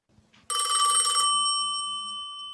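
A portable telephone rings once, a sudden loud, close electronic bell tone that holds for about a second and then rings out and fades.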